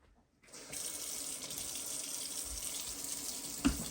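Water running from a kitchen tap at a camp in Maine while a cast iron pan gets a quick wash, a steady soft hiss of flow with faint clinks and a small knock near the end.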